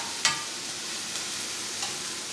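Onion, green chili and ginger sauté for daal in a pan, giving a soft, even sizzle with a few light clicks of stirring. Nearby and fairly quiet, with no talking.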